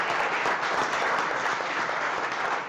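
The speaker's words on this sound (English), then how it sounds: "Big round of applause for Emily, please." A studio audience at a chef showdown cooking competition gives Emily a loud, sustained round of applause, dense and steady throughout with no talking.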